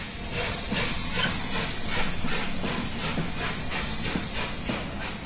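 Steam locomotive standing at a station bay platform, a local train for Lyme Regis, giving off a continuous loud hiss of escaping steam with faint pulsing underneath, heard close and alone.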